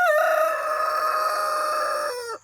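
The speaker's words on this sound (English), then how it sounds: "If you hear really long crows in our videos" A New Hampshire rooster on a small homestead farm lets out one long, loud crow close to the microphone, held steady for over two seconds before cutting off sharply, with no talking over it.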